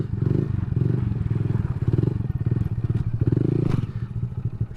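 A Honda Grom motorcycle doing sit-down circle wheelies: its small engine drones loud and steady throughout with a rapid pulsing exhaust note, held revs swelling slightly over the rumble.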